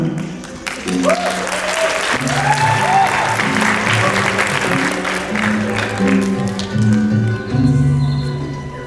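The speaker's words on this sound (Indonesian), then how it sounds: "beri tepuk tangan yang meriah" An audience at an arts stage event in Bali claps in loud, sustained applause throughout. Voices and music-like tones sound faintly underneath.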